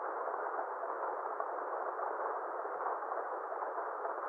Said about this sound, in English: I introduced this like rain ambient sound.